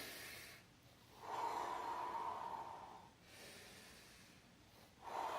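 Slow, controlled breathing during a runner's core exercise, with long, steady breaths drawn close by and audible in and out over several seconds, spaced by brief pauses.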